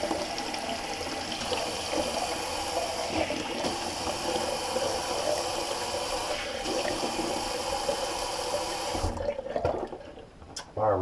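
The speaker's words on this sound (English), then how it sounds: "Just gonna do a quick cold water rinse," Cold water runs from a bathroom tap in a steady, close rush after a wet shave, stopping near the end with a few splashes.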